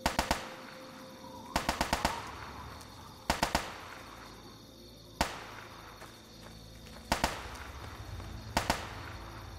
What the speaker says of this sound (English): What's all the gunfire?